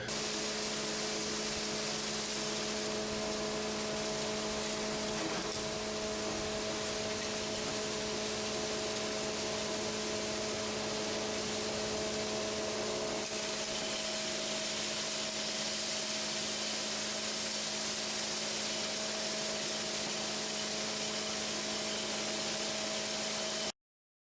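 A grinder chews through homemade chicken feed with a steady, dense mechanical roar and a constant hum, unbroken from start to finish with no voices.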